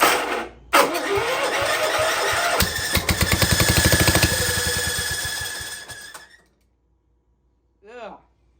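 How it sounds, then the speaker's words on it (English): A starter cranks the engine of a 1960s Cub Cadet tractor in a loud, grinding run of rhythmic turns lasting several seconds, then it cuts off to near silence with a brief faint noise at the end. "Ew, that starter."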